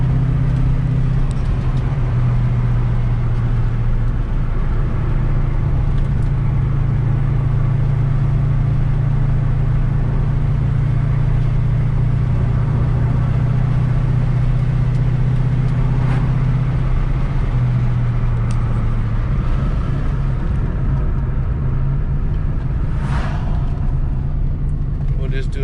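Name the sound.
1993 Ford Mustang Cobra driving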